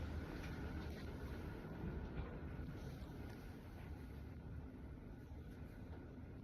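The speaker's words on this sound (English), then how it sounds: "Whoa, it was just thumping super loud. Big gusts." A strong blizzard wind roars steadily around a remote house, with a deep rumbling gust pressure and no distinct thumps standing out, distant and muffled throughout.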